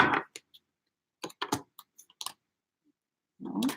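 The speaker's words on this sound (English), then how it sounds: "So one more shuffle." Deck of cards being shuffled, a scattered run of quick riffling clicks and flicks in short bursts, with brief bits of softer handling at the start and end.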